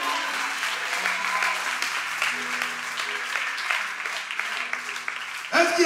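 Sustained applause from a congregation at a French-language church seminar, a dense steady wash of clapping running several seconds with a louder swell at the end.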